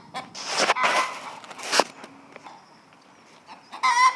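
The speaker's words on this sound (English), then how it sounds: "And this is Clara, who's making all that noise in the background." Chickens, including a black-and-white magpie hen, in a garden, making bursts of loud, close clucking and squawking with quieter pauses between them and a final raised call.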